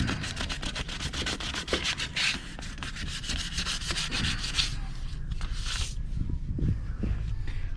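Hand sanding of Bondo body filler on a car panel, with loud, rapid back-and-forth rasping strokes in a steady rhythm that slows and turns irregular toward the end.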